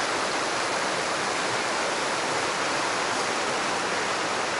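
Creek water flows over moss-covered rocks in the woods, giving a loud, constant rushing wash with no pauses or other sounds.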